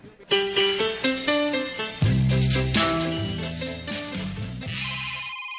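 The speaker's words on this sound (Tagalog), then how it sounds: "Hala, ang cellphone ni Sarah. Sarah? May nanawag" A cellphone rings loudly with an incoming call, its electronic ringtone melody repeating in bright, steady notes at close range with no talk over it.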